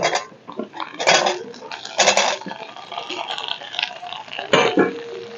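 Chopped flat beans tip into a pan of lightly fried potato and onion, giving a few clattering bursts of metal and utensil knocks with soft scraping and stirring between them.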